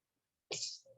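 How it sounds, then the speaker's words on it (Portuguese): A single sharp sneeze bursts out after a moment of silence, close and loud, trailing off into a short voiced tail. "Vou espirrar."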